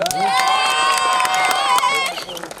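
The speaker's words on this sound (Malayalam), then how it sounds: "ഒരു നല്ല കൈയടി തരൂ" An audience at a mall event celebrating a Malayalam film's success cheers and shouts together, a loud, close burst of excited voices and whoops that fades toward the end.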